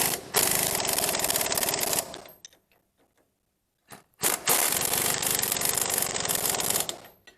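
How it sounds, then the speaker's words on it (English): Impact wrench with a 21 mm impact socket hammering on a strut bolt, a loud, rapid rattling burst of about two seconds, a pause of near silence, then a second sustained burst of similar length. "the 21 millimeter impact socket. And we're going to fire it on there"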